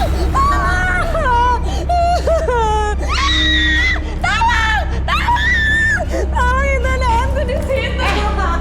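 A person screams and wails over a steady low hum, high strained cries rising and falling in repeated bursts with some whimpering and voices mixed in.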